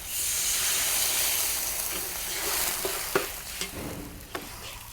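Fried garlic sizzling in a wok as fermented soybean paste and water go in for Thai rad na, a loud hiss that gradually softens, then scattered pops and spatters.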